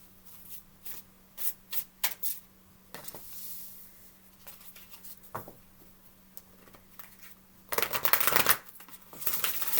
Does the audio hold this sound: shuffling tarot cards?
yes